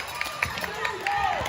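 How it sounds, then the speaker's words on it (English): Blue Hawks crowd at a 14U girls' basketball game cheers and shouts in a busy gym, with sneaker squeaks and scattered whoops rising over steady crowd noise. "You can hear the very exuberant Blue Hawks crowd behind me."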